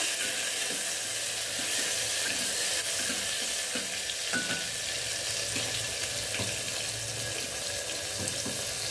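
Chopped tomato sautéing in a hot pan, a steady hiss and sizzle with soft watery crackle running the whole time, fairly loud and even, with no talking.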